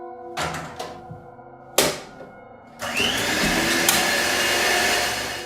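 A hand blender left switched off on a kitchen counter suddenly whirs to life, a loud steady motor drone that runs on after a few sharp knocks and thuds.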